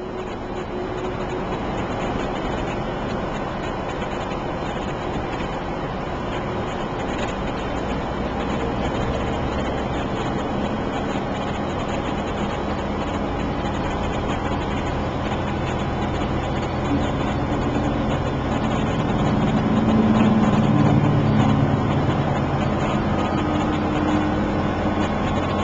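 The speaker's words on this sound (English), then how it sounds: "Up to about 1900 RPM in this gear." A vehicle engine pulling in gear as it climbs to about 1900 RPM, a loud, steady low drone that swells slightly near the end, with a voice faintly beneath.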